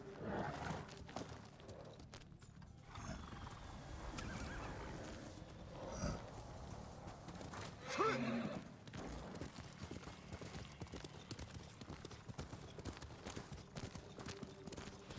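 Horse hooves clip-clopping steadily in Ghost of Tsushima, with a brief louder burst near the middle over continuous game ambience, and no speech.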